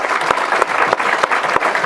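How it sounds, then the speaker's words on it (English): Audience at a county historical society bridal event applauding the accompanist, a steady patter of many hands with a few distinct sharp claps standing out, moderately close and unbroken by talk. "let's have a round of applause for Linda Anderson, our accompanist here today"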